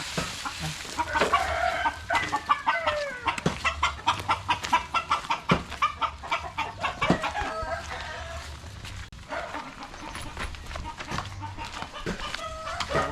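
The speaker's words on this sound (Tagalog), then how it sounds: "Pasensya na kayo sa ingay ng manok." Chickens cluck repeatedly in a rapid, pulsing rhythm close by, with a rooster crowing in the mix and farmyard noise around them.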